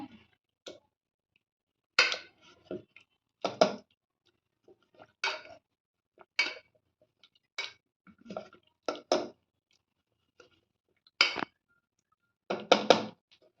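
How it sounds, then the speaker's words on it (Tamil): Boiled potatoes and peas get mashed in a pan, heard as scattered clinks and soft thuds of a utensil against metal, arriving in short irregular bursts with quiet gaps between. "இப்போ நம்மளோட உருளைக்கிழங்கும் பட்டாணியும் நல்லா வெந்துருச்சு. நம்ம இது நல்லா மசிச்சு விட்டுடலாம்."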